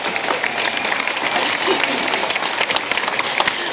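Spectators applauding at a sea lion show, a dense, steady burst of clapping from a crowd, moderately loud throughout with faint voices mixed in.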